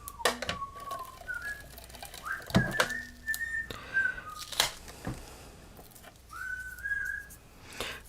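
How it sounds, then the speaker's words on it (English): Someone whistles in short rising and falling phrases during a live indoor craft session, fairly faint, mixed with clicks, taps and light handling noises in the room. "He's whistling."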